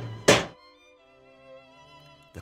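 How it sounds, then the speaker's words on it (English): A multilayer pipe bursts under hydraulic pressure testing at around 75 bars, a single sharp, loud thunk right at the start, followed by a faint lingering ringing tone that slowly decays. "The tube bursts."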